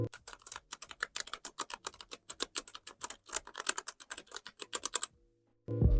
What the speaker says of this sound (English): I just love the way these brown switches sound